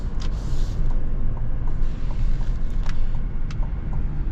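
A 2025 Chevrolet Tahoe LT with the Duramax diesel powertrain heard from inside the cabin while driving: a steady low rumble and road drone with faint creaks, continuous throughout and without talk.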